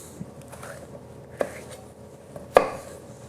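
A knife cuts the white rib out of a vegetable on a cutting board, giving a few soft, sparse chops with one sharper knock near the end, close and quiet.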